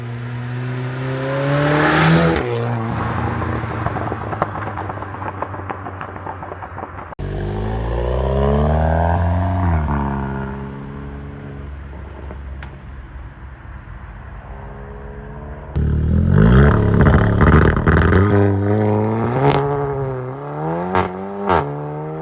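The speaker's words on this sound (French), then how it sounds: "je sais pas ce qu'il est à l'échappement, mais ça fait un boucan son truc" A 300 hp car engine with a loud exhaust revs hard and close. It climbs and falls through several rising sweeps, then a louder, rougher burst of throttle near the end.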